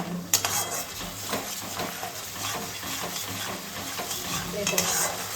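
Ground roasted cumin and spices sizzle and fry in oil in a pan while being stirred for katla rezala, with steady close sizzling, spoon scrapes and occasional clinks of cookware throughout.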